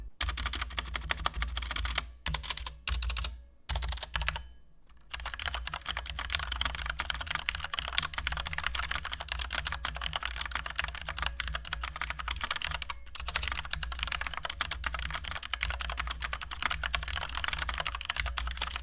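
Rapid typing on an AGK 700 full-size computer keyboard, a dense stream of close clicking keystrokes with a few brief pauses, fairly quiet and with no voices.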